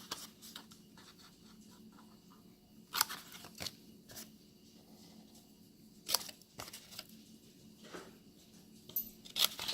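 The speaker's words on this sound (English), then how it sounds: "we're going to cut slots on all 4 sides." A blade cuts slots into the sides of a small cardstock gift box, giving faint scratchy cutting strokes and a few sharp crisp snips at irregular intervals, close and quiet with no talk.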